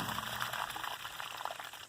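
Water pours steadily out of the end of a garden hose drawn from a pond by a non-electric water pump, a continuous close splashing trickle with no talk over it.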